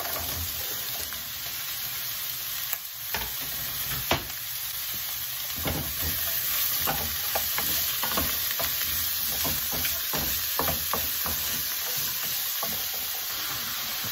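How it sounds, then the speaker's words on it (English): Onion and diced carrots fry in a pan with a steady sizzle, while a utensil scrapes and clicks through them in repeated stirring strokes, close and clear with no voices. "I've fried the onion for 5 minutes before adding the diced carrots."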